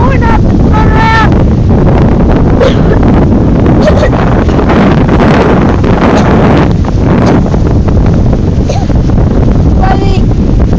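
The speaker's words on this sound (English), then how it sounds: "So windy that we couldn't even fly a kite." Extreme wind buffeting the microphone at Gold Beach, a loud continuous roar with surf rumbling beneath and brief voices breaking through.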